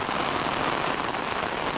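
A downpour of heavy, unrelenting afternoon rain makes a thick, constant hiss of drops striking surfaces, loud and unbroken from start to finish.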